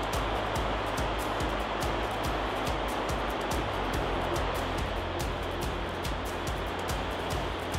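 Loud, continuous rushing water from river rapids fills the scene as a steady broadband roar, close and unbroken, with no speech over it.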